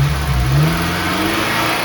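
A warmed-up 8th-generation Honda Civic Si engine in need of a valve adjustment revs up loud and close, its rising drone swelling briefly before settling back toward idle, with no talk over it.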